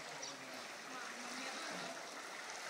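Strong floodwater current rushing past like a river, a steady broadband roar and hiss, loud and continuous with no breaks.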